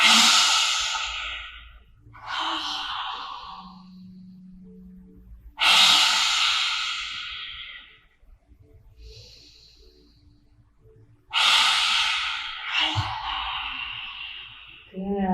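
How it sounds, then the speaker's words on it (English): Three long, forceful yoga exhales with the tongue stuck out, each a loud breathy rush of air lasting about two seconds, separated by quieter pauses and soft inhales. "with our exhale, stick out the tongue and let the air go, kind of like that"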